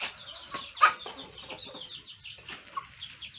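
Several chickens in a flock of about twenty-three cluck steadily in a busy, overlapping chorus, with an occasional louder squawk standing out close by.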